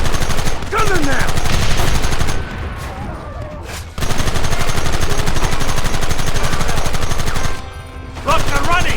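Heavy gunfire from a Red Dead Redemption shootout rattles loudly and continuously in rapid bursts, briefly easing twice before resuming, with a shouting voice over the shots.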